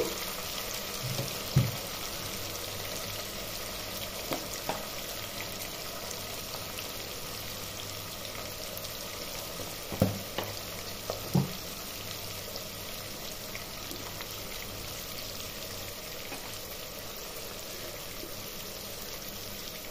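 Sambar ingredients fry in a pan until reddish-brown, giving a steady hissing sizzle with a few soft clinks of stirring, close by and without speech.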